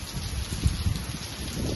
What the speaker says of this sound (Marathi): ते खूप पाऊस पडतोय कालपासून.